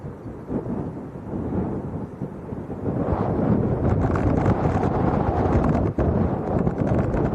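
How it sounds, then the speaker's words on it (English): Strong wind gusting at Leeds Bradford Airport, a loud continuous roar buffeting the microphone and rising in strength partway through, with no voices. "Wind's picking up again."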